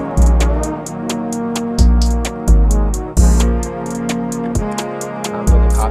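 A trap beat arrangement plays back in Soundtrap, loud and full, with heavy booming 808 bass hits, a steady rapid hi-hat pattern and a repeating melody looping throughout, no voices.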